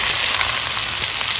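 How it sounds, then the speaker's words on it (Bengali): Chopped onion and tomato with salt frying in hot oil with cinnamon, cardamom and cloves, giving a loud, continuous, close sizzle with no voices. "দিয়ে দেবো পেঁয়াজ কুচি, একটা টমেটো কুচি, একটু লবণ দিয়ে দেবো"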